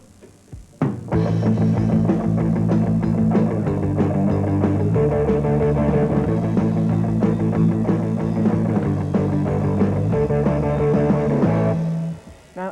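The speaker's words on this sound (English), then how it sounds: "what you should try is getting the whole band to play 8th notes" After a brief quiet start, a whole rock band drives steady fast eighth notes together at a loud, even level, with chord changes along the way, stopping cleanly near the end.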